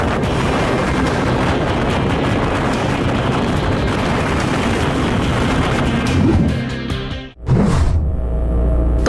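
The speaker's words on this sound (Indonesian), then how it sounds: "Pusaran angin sangat menakutkan, suara gemuruhnya pun merasa dunia ini bisa dihancurkan." A tornado roars as a dense, loud, continuous rumble of wind that fills the whole range. The roar cuts off abruptly near the end, then returns more deeply.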